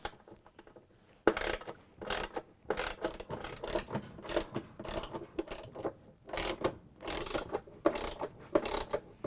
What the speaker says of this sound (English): Now when we have all 4 bolts in, we can tighten them.